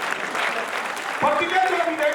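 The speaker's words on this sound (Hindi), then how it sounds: "फिर एक बार जोरदार तालियों के साथ" An audience at an international Jat parliament assembly in Hisar applauds a poet with a brief burst of clapping, and a voice then begins talking over it.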